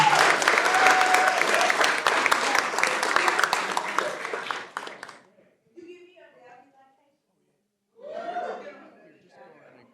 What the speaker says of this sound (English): One more round of applause for the Salisbury Hornets.